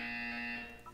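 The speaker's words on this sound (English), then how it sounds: "When you hear the buzzer, look down at the floor." A steady electronic buzzer tone from the Portal 2 video game sounds alone for most of a second, holding level before tapering off, with a brief higher blip near the end.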